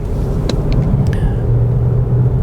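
A Mercedes S580 4MATIC with 503 hp pulls away leaving a village on the road, a low, muffled cabin rumble building smoothly with a few light clicks early on.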